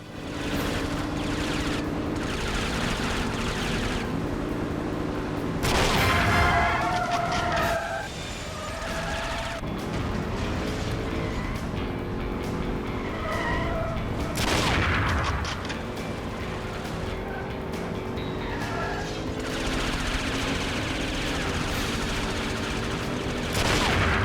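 Gunfire in the video game 007 Nightfire during a vehicle chase, with rapid bursts of shots over a constant engine roar and music, heavy loud volleys around the middle, continuous and dense with no talk.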